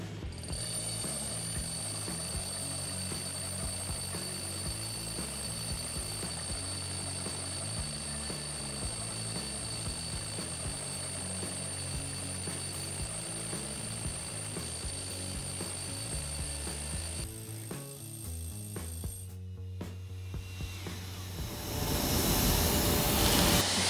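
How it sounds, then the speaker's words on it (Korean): A Hilti TE 60-A36 cordless hammer drill bores a 40mm hole in hammer-drilling mode, giving a steady, loud, rattling mechanical drone with a high whine that runs nearly continuously, then cuts out and surges briefly at the end. "자, 모드는 햄머 드릴링 모드로 다시 변경했고요. 40mm 진짜 안 될 것 같은데."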